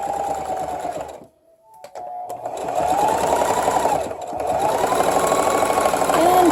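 A sewing machine stitches stretchy shirt fabric in quick, rhythmic bursts, pausing briefly between runs, with a voice talking over the whirring.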